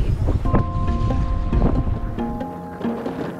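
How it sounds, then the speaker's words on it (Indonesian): Strong wind buffets the microphone on a small fishing boat at sea off Natuna, with gusty roar, rumbling low wind noise and faint tonal hums from the boat. "karena anginnya itu lumayan ya, jadi terombang-ambing sekali di sana"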